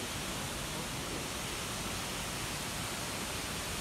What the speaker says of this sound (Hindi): ये जो पहला वाटरफॉल है बहुत ही ऊंचाई से गिर रहा है